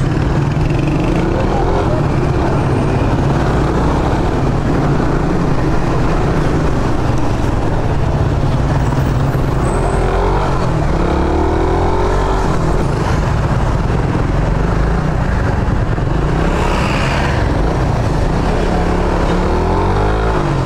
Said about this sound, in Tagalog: Tignan nyo guys, napakadaling isingit sa traffic nito Raider.